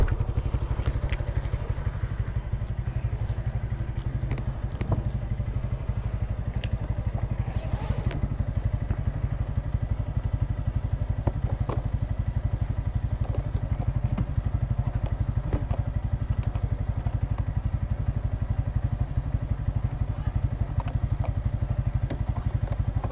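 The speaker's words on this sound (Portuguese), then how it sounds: "Vou nem desligar a moto. Tem que ser jogo rápido." A motorcycle engine idles steadily nearby, a low continuous putter with occasional faint clatter and clicks.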